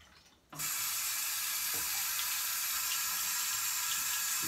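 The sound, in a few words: water running from Kingston Brass faucet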